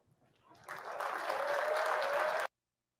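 A crowd at a college graduation ceremony breaks into applause, building from a few claps into a loud, dense ovation that cuts off abruptly after about two seconds.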